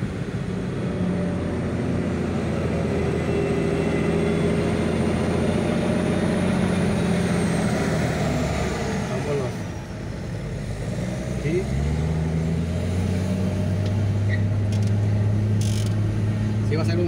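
Busy city street traffic in Tijuana's Colinas de Aguacaliente, a continuous rumble of passing cars and engines with a whining tone drifting overhead, recorded from inside a vehicle; the level dips briefly midway.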